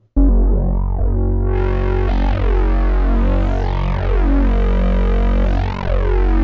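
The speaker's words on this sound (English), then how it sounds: "we've also got dedicated buttons for phase modulation, which only affects the wavetable oscillator" A sustained Roland GAIA 2 synthesizer wavetable tone with phase modulation, its shifting, sweeping metallic timbre and warbling harmonics played continuously and loudly with no voices.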